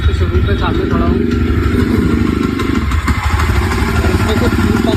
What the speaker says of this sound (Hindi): इसमें कुछ पंप में से आवाज़ आ रही है